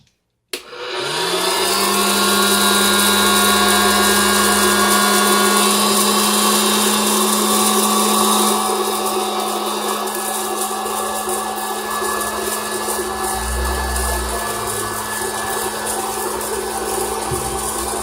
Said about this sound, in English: We gonna pop some popcorn. Alright. It's gonna get a little loud.